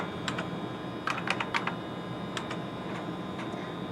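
Keys clack on a computer keyboard at a CC 4690 scale controller as an ID and password are entered, soft scattered taps in short bursts with pauses, close and quiet against a steady electronic hum.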